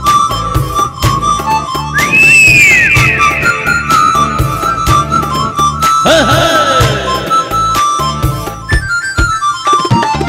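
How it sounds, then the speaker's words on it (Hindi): A man whistles a melody during a studio music performance, clear sustained high whistled tones with sliding pitch, playing over steady loud instrumental accompaniment. "सीटियां भी बजा रहा है"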